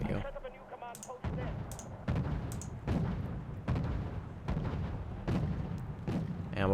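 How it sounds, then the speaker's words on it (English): An ammo box explodes amid repeated heavy booms and gunfire in the Cold War strategy game Wargame: Red Dragon, with several sharp blasts spaced across the stretch over a rumbling battle background. "ammo box explosion on one of them"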